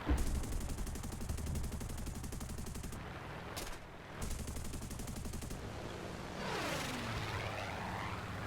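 FC .20bis plane engine in the War Thunder video game, a steady loud droning hum with rapid bursts of gunfire, briefly dropping out before resuming and swelling near the end.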